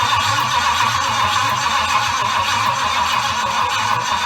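Triumph Stag V8 engine turning over on its starter with a flat battery and failing to catch, a steady, loud, close cranking whir with a rhythmic low pulsing throughout.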